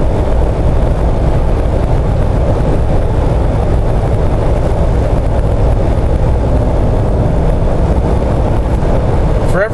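Steady, loud drone of a Jeep JK with a swapped Chevy LS engine cruising at 65 mph, a continuous broadband road and engine rumble holding even throughout with no speech.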